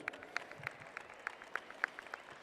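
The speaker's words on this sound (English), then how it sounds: "Why don't we give her a round of applause?" A rodeo audience at a cowgirl event in Queen Creek, Arizona gives faint, sparse applause, scattered claps heard from a distance.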